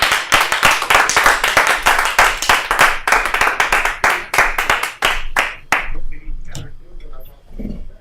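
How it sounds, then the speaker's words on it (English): Audience applause for a comedian taking the stage at a live comedy show in Chicago, with dense clapping that thins out and fades over several seconds, followed by a few faint stray noises. "Everyone give a round of applause for Andrew Puli."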